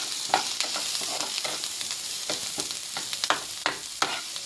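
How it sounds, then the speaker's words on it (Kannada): Chopped onions frying in oil in a home kitchen, browning for a Sunday meal: a steady close sizzle with scraping stirs and small crackles throughout, no voices. "ಇವಾಗ ಇಲ್ಲಿ ಎಣ್ಣೆ ಹಾಕ್ಕೊಂಡು ಒಂದು ಸ್ವಲ್ಪ ಉಳ್ಳಾಗಡ್ಡೆ ಈ ಥರ ಹಿಂಗೆ ಕಲರ್ ಬ್ರೌನ್ ಆಗತ್ತನ ಫ್ರೈ ಮಾಡಬೇಕು"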